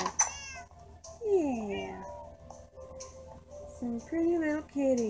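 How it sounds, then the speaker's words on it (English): Pet cats meow in the Minecraft video game, with several distinct meows rising and falling, some sliding and drawn out, others short, under a quiet voice that briefly speaks. "All these kitties are our pets."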